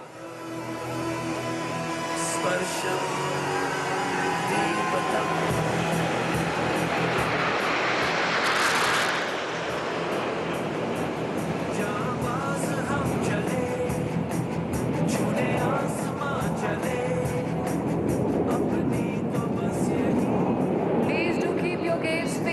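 Indian Air Force Suryakiran aerobatic team jets flying past at the Air Force Day parade, a loud continuous broadband jet roar that swells and holds steady throughout, with a crowd and outdoor wash beneath it.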